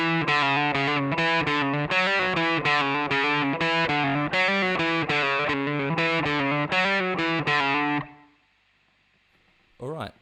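Electric guitar with distortion effects playing a repeated synth-like riff from a song, loud rhythmic picked notes for about eight seconds, then a sustained fade and a brief bend at the end.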